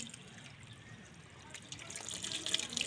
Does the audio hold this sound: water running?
yes